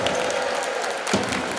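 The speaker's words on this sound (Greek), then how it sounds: "Το χειροκρότημα το ζεστό" Crowd applauding in a gymnasium after a Norway–Greece handball match, a dense, continuous wash of clapping with a brief louder burst partway through.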